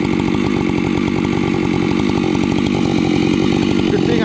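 A chainsaw cutting into a log while logging, its engine droning loud and steady at close range with a fast chattering texture, running continuously with no voices.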